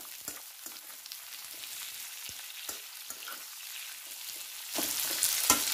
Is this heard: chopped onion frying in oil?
yes